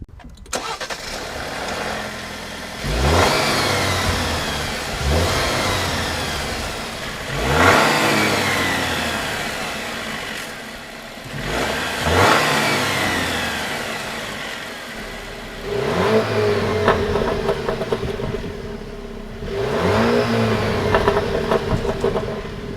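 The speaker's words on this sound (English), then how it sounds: "It's a lot sportier than I was expecting to hear from this inline 4." A Jeep Wrangler's turbocharged inline four-cylinder engine revs up close in about six sharp bursts, with a little crackle, each falling back to a rough idle between them.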